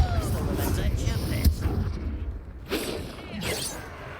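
A Confringo blast spell fires in Hogwarts Legacy on PS5, a sharp explosive burst amid dense, loud combat noise with whooshes and impacts, while a voice calls out over the clash.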